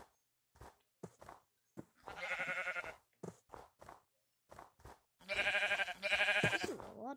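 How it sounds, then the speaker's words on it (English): Sheep bleating in the Minecraft survival game, several separate short calls spaced across the stretch with two longer, louder bleats near the end, clear and close with no talk over them. "This is a lot of sheep."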